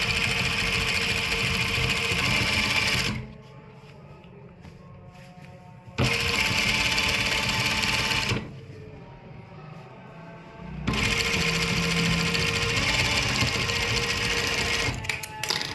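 A sewing machine stitching the final seam of a trouser hem with lace, running in loud steady bursts of rapid mechanical clatter separated by two quieter pauses.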